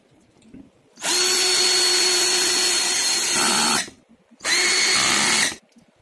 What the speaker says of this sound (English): we have to drill simply the two holes